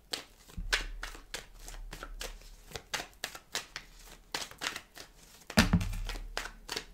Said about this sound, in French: il y a des cartes qui viennent de tomber, il y en a tout un tas